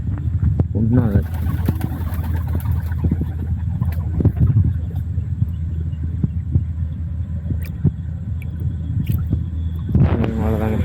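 Low, soft pigeon coos repeat over a steady rumbling background, with occasional clicks and light noises scattered throughout.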